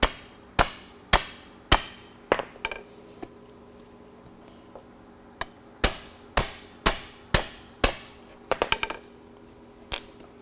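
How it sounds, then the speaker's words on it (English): A deep well socket is hammered down onto a bushing to seat it in a strut during a 7-inch lift install on a 2011 2WD Dodge Ram, sharp metallic taps in quick clusters with short pauses between, close and loud. "We're going to take a deep well socket that fits over top of the bushing. We're going to tap it into the strut."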